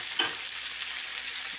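Tomato pieces are stirred in a frying pan, giving a steady soft sizzle with one brief scrape near the start, close up and without voices.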